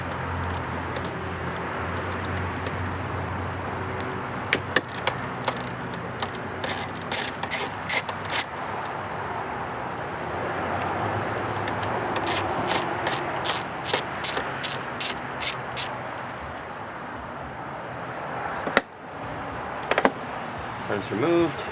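A hand ratchet loosening a bolt on the idle control valve of a Mercedes V8 engine: two runs of quick, evenly spaced clicking strokes, close up, with a sharp clank near the end.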